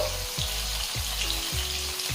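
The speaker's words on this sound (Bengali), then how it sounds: "এবারে করলাগুলো ভেজে নিচ্ছি করলা ভাজার জন্য দিচ্ছি সামান্য লবণ সামান্য হলুদ গুঁড়ো" Bitter gourd pieces with a little salt and turmeric fry in oil in a pan, making a dense, steady sizzle up close, with a low rhythmic thump repeating about every half second underneath.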